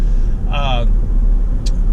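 Interstate highway traffic heard from inside a moving car: a steady low road rumble with a brief squeaky in-cabin sound and a short click, under a constant engine drone.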